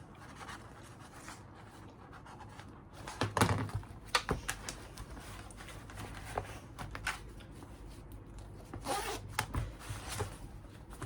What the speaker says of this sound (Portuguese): Vou abrir o meu zíper.